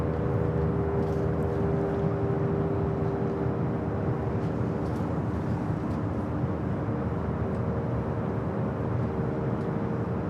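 A steady, distant airliner drone at Los Angeles International Airport, a Japan Airlines Boeing 787-9 Dreamliner arriving from Osaka, holding a constant low roar with faint tonal hum and no talking.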